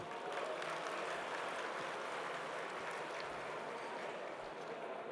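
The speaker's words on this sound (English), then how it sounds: "big round of applause" Audience applause at a district installation ceremony, a steady, dense wash of clapping from a room of people that holds evenly for several seconds at moderate distance.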